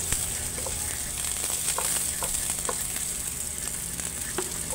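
Ten cloves of crushed garlic sizzle in a little oil in a hot wok, a steady close frying hiss with occasional small crackles and pops throughout.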